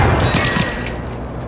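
Robots firing guns in the video game Generation Zero, a rapid rattling fusillade of shots up close that thins out over a second and a half.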